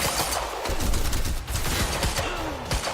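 Heavy pistol gunfire in the video game Quantum Break: a dense run of sharp shots and impacts, loud and continuous over roughly three seconds, with layered game effects and no talk.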